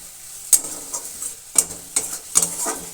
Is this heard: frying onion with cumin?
yes